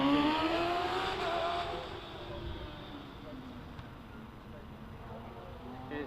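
A 1988 Reynard Formula 3 chassis with a Kawasaki engine at a hill climb event, its high-revving engine screaming loudly and then fading as it pulls away, with a commentator talking over it.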